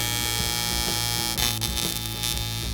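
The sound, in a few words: welding sheet metal with a Dynasty welder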